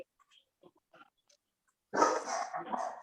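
A dog barks in a rough, noisy burst that starts partway through and runs to the end, loud and close after a few faint scattered sounds.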